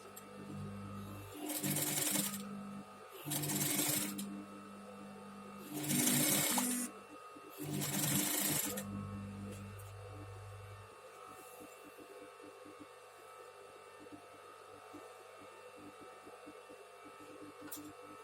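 A sewing machine stitches patchwork quilt pieces cut from scrap fabric, running in four separate bursts of steady mechanical whirring. Each burst lasts a second or two, and someone speaks between them and after them.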